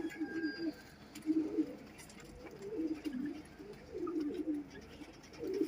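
Pigeons kept as flying birds coo repeatedly in soft, rolling phrases, fairly close but quiet, with a little background noise between calls.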